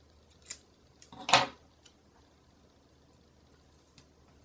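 Scissors cutting paper at a planner crafting desk: a few soft, quick snips and rustles, one fuller cut in the middle, close and quiet against a hushed room.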